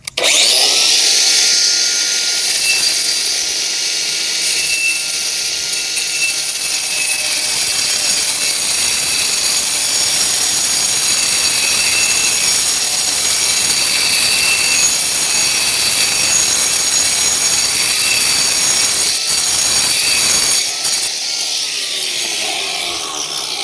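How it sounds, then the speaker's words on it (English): An angle grinder with a diamond disc whines steadily while cutting through a paver, a loud, continuous gritty roar lasting throughout with no talking. "we'll just connect our 2 lines up and do it solely with our diamond disc and our grinder"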